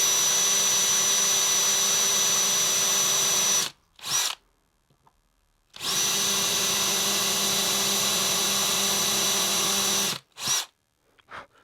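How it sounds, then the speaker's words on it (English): A power drill whines steadily in two long bursts, drilling out rivets on a Suzuki DRZ400SM motorcycle wheel, each cut off abruptly, with short blips of the motor between them and no talking. "first thing I need to do is drill out those rivets"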